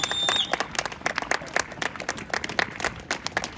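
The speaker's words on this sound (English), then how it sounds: "let's get a louder clapping now, y'all" A crowd claps at an outdoor vigil, with rapid, uneven hand claps in loud bursts that fade and pick up again over a few seconds.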